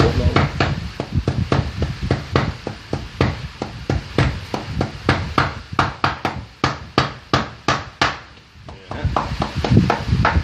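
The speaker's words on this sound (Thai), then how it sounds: "เสียงค้อนมาเลย" A hammer strikes repeatedly while handmade shoes are being made in a workshop, with steady, close, loud blows in a regular rhythm that briefly slows near the end, and no talk over it.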